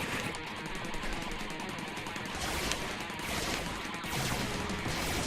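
Ship weapons blaze in the Steredenn shoot'em up, a dense, continuous barrage of rapid shots and impacts that stays loud and steady for the full five seconds with no pauses.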